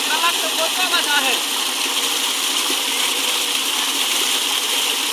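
An electric water pump motor forcefully pushes fresh water into a tank, producing a loud, steady rushing gush that fills the whole clip without pause, with possible faint voices underneath.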